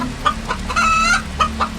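A hen clucks loudly and close in a quick uneven burst of several squawking notes, used as a sound effect in a Bengali horror audio story.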